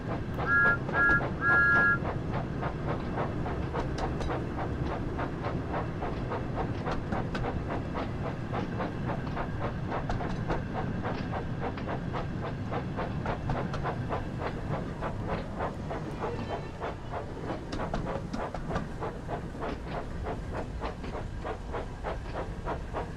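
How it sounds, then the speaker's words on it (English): Thomas the Tank Engine train running in Train Simulator 5, a steady loud rumble of wheels with rhythmic clickety-clack and a hiss of steam, continuous throughout with no talk. "As Thomas's train pulled into the station"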